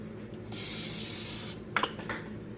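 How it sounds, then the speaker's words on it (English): A single one-second hiss of olive oil cooking spray from an aerosol can, close and loud, followed by a couple of soft clicks and clatter. "With a little cooking spray, olive oil cooking spray."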